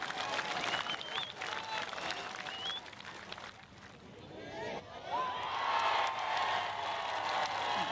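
Spectators at a women's professional golf tournament's final round clap after a putt, a broad wash of crowd applause rising and fading while commentators talk over it.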